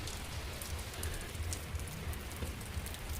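Heavy rain pours on a rooftop in an even, continuous hiss of drops at moderate level, with scattered sharper splashes and no talking.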